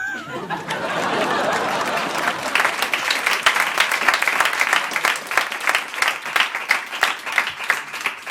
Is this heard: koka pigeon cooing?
no